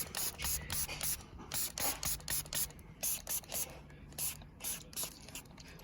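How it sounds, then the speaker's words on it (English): A spray bottle hisses in a quick series of short, even spritzes, about a dozen pumps, close up and fairly quiet. "Just give that a little one more spray,"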